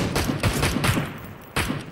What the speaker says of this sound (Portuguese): Tá tomando tiro aí, Bear.